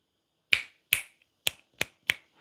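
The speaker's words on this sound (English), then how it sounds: "I wish I could snap my fingers" Five crisp finger snaps ring out close and clear, evenly spaced about half a second apart, each a sharp dry crack with a short decay in an otherwise silent room.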